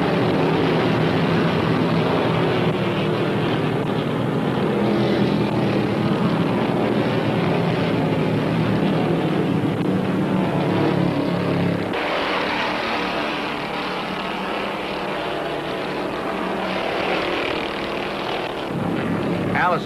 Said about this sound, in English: By the time they hit the second turn, Bobby Allison has the lead